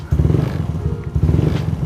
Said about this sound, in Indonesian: Aku bakalan kasih dengar teman-teman semua suara ini motor guys.